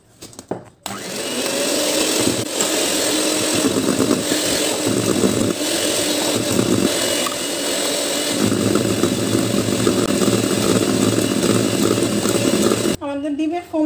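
An electric hand mixer whirs steadily at medium speed, beating eggs and sugar into a foam for a tres leches cake, a continuous loud motor drone running almost the whole time with a brief pause near the end.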